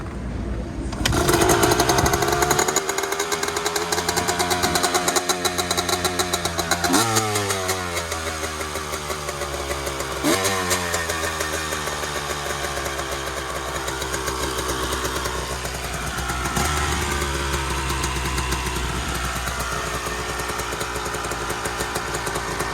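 A 2001 Honda CR250 two-stroke dirt bike engine runs loud and steady with the choke on, holding a rough, buzzing idle with a couple of brief revs and pitch shifts throughout, no voices present.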